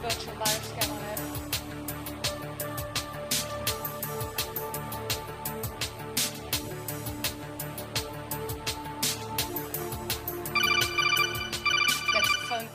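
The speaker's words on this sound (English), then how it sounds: "That's the phone call you get." An electronic phone ringtone from the Hacked news video game repeats in bright, regular pulses over a busy rhythmic musical bed, with a higher chiming tone joining near the end.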